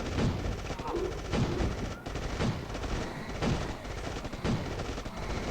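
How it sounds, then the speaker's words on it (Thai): Rapid turret gunfire in the mobile strategy game State of Survival, steady repeated shots in a dense, continuous stream with periodic heavier thumps throughout. "ยิงมันต่ออีกรอบหนึ่งครับ"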